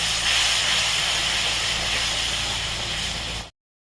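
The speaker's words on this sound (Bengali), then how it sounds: "এটা কষিয়ে নেবো একটু অল্প একটু ভেজে নেবো" Spices with a little red chili powder frying in oil for a homemade mutton biryani, a loud steady hissing sizzle heard close up that cuts off abruptly near the end.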